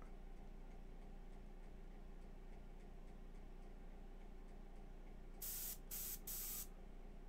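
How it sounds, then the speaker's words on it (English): Under a constant low background hum, an airbrush gives three short, bright bursts of spray near the end while priming and basecoating a McFarlane Hellblaster Primaris Marine figure. "I was talking about my airbrush work."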